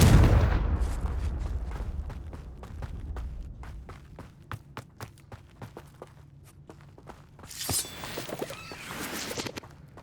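In Hogwarts Legacy, a Confringo fire spell goes off with a heavy booming blast, then a long run of sharp cracks and crackling bursts. A second burst of noise follows near the end.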